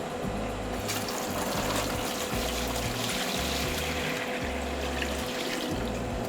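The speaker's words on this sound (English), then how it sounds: "I usually fill it with about a gallon of water" Steady rush of about a gallon of water pouring into a canner pot, a continuous hissing flow with a low rumbling hum underneath, close and unbroken.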